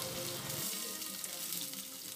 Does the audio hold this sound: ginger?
yes